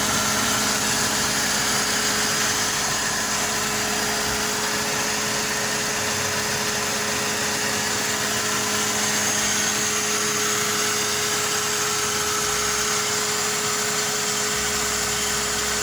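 A Mercedes C180 car engine runs at a steady, loud, close idle, a continuous even drone with a constant hum and no talk.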